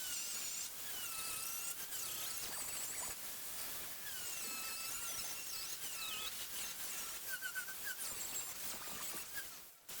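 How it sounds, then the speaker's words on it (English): A strip disc wheel grinds paint and rust off bare metal on a Camaro, a steady, harsh abrasive whir with high squealing whines that rise and fall, close and loud throughout. "I use these stripping wheels. It's just a strip disc."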